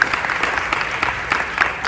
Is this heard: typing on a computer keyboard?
no